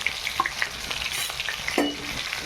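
Cumin seeds sizzling and crackling in hot oil for a dry fasting-day potato bhaji, a continuous frying hiss with scattered pops and a stirring scrape.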